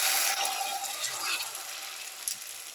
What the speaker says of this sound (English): egg mixture into the pan and let it fry